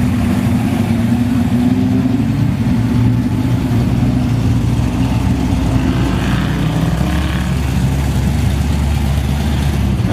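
Chrysler cars drive past in a continuous parade at a Chrysler meet at Mile End, with loud, overlapping engine rumble and revving.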